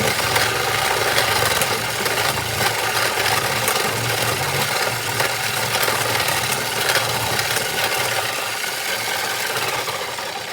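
A Beyblade motor strike top spinning clockwise against its spin, erratic, with a loud, steady buzzing, whirring rattle that runs on for about ten seconds and fades slightly at the end.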